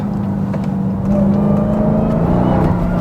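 A Dodge Charger Hellcat Widebody climbs through throttle on a winding mountain road, its engine note loud and close, a deep continuous roar that swells in intensity partway through.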